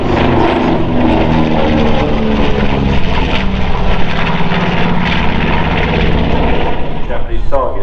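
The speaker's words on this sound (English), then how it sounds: "here is the B-25." B-25 bomber, a twin-engine propeller aircraft, flying at the Farnborough Airshow, a loud, sustained droning roar of piston engines and propellers close overhead, with a commentator talking over it.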